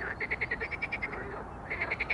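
Frogs croak in a quick, rhythmic chorus beside the Ilek river in April; the pulses run steadily, pause briefly, then start again fairly near.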